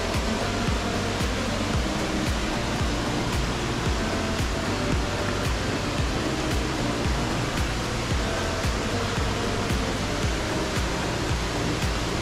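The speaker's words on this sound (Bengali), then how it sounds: "আবার এরকম এরকম পাহাড় চুয়ে জল পড়ছে" Water streaming down a mountainside in northeast India, a dense constant rushing roar close by and unbroken throughout, with no voices.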